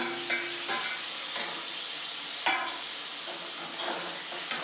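Chopped tomatoes sizzle steadily in a pan while a utensil scrapes and stirs through them in irregular strokes.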